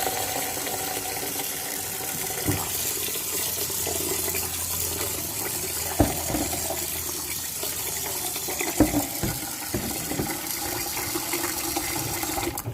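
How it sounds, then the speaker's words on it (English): Water pours steadily into a cooking pot holding rice, a continuous close gushing and splashing that keeps on with no pauses. "we're just going to add some more water"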